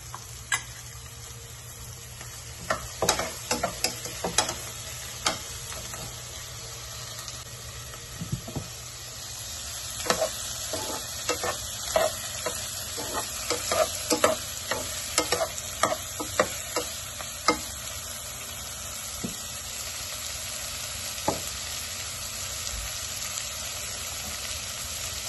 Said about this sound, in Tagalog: Hintayin lang po natin maluto, magisa ng maigi yung beef tripe.